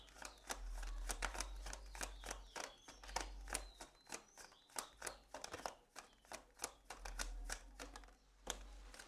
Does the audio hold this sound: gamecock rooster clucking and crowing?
no